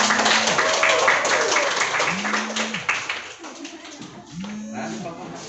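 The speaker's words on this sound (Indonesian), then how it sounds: "tepuk tangan dulu untuk Bobby" Classroom applause for a student, a brief scatter of clapping from pupils heard behind a repeating low tone and speech-like voices, fading in and out.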